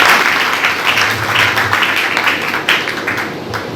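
A church congregation applauds during a Sunday service, producing loud, sustained clapping that fills the room from start to finish with a continuous wash of hands.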